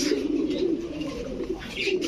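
Budapest and other fancy pigeons at a bird market give a continuous, close, throaty cooing that swells and dips for the whole moment.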